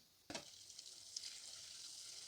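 A puri is dropped into hot oil with a sharp hiss, then frying settles into a steady, quiet sizzle that continues without any talking.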